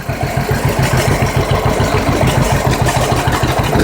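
Close and loud, a tractor engine chugs at a steady idle-like rhythm with the power take-off engaged and driving equipment.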